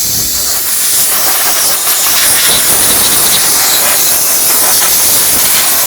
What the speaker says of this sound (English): Let's spray it down with some brake parts cleaner just to get all the dust and debris off.